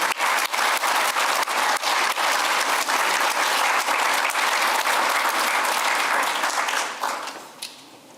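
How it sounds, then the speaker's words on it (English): Sustained audience applause for physical therapy doctoral graduates at a graduation ceremony, loud and dense with scattered individual claps, continuing steadily before tapering off in the final second. "Let's give it one more round of applause for our graduates"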